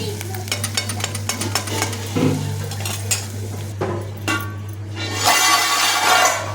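Sliced onions frying in two to three ladles of hot oil, with utensils clattering against the pan at first and then a louder, steady sizzling hiss building near the end.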